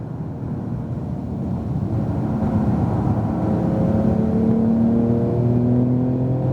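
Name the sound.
Porsche 911 Turbo S accelerating on track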